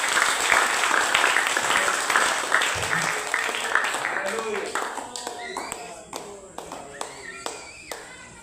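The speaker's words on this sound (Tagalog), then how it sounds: "Palakpak para sa Diyos." Church congregation applause: dense clapping with voices over it, thinning into separate, sharp claps toward the end.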